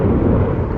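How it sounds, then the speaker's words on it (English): Deep rolling thunder from lightning during a thunderstorm over an urban creek, a loud sustained low rumble filling the short moment with no voices. "Wow, that was freaking lightning."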